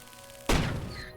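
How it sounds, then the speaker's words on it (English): A firecracker goes off in the video game PRIM: one sharp, loud bang that cuts in abruptly after a quiet stretch and then trails off in a long fading rumble. "Drop the firecracker!"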